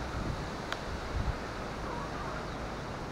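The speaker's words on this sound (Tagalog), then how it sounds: "simula kaninang umaga ay mahangin na, hanggang ngayon ay alas 4 na, mahangin pa rin" Typhoon Kristine wind blowing hard and steadily, a dense, unbroken roar buffeting the microphone from start to finish with no clear pauses.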